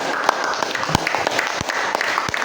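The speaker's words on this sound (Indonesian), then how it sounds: "Tepuk tangan untuk kelompok 1." Classroom applause for a student group during a teaching practice lesson, a fairly close, uneven patter of many hands with a few sharp louder claps standing out.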